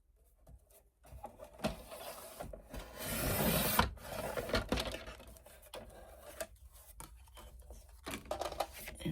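A piece of masterboard trimmed down to size, with quiet intermittent rubbing and rasping strokes of the cut, close but faint, with no talk.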